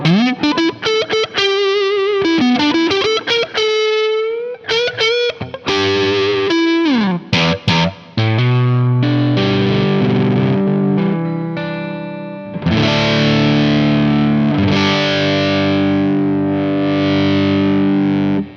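A fuzzy, distorted electric guitar played loud into a lightly driven amp with guitar volume at 7, breaking up on fast riffs and bends, then ringing out on thick sustained chords.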